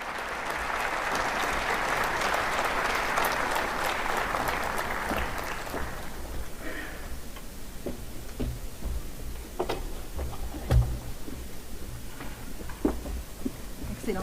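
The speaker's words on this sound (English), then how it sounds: "Sous vos applaudissements, Mesdames et Messieurs, Monsieur le Président Évariste Ndayishimiye" A crowd applauds at an African Union summit ceremony, steady dense clapping for about six seconds before fading to scattered claps and low hall murmur.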